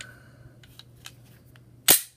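A Glock 19 pistol slide racked after reassembly: faint handling rustles, then one sharp, loud metallic snap near the end.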